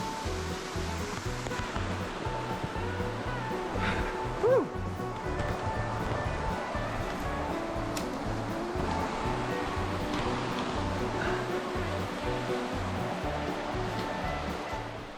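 Cold stream water in Sequoia National Park rushes steadily and loudly, a constant churning wash with a faint brief chirp partway through, and no talk over it.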